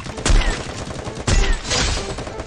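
Heavy gunshots from a video game crack out in a few loud bursts with low booming thuds, separated by brief gaps over busy game noise.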